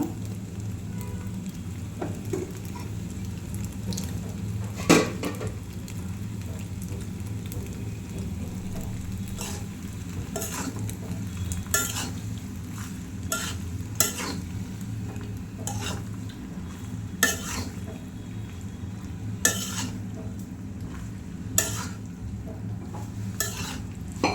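Spicy chicken pasta in tomato sauce sizzles steadily in a pan while a utensil stirs it, with occasional sharp scrapes and clinks against the metal; there is no talking.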